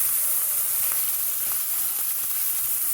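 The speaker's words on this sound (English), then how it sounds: "the salt cod in there and let it fry off. You want it to get a little bit golden" Salt cod frying in a pan for Bajan cou cou, a steady close sizzle and crackle running unbroken the whole time with no voices.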